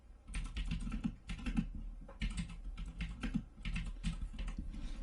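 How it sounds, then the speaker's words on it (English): Rapid typing on a computer keyboard, close and crisp, with quick clusters of keystrokes and brief pauses. "Get a little bit of typing ASMR."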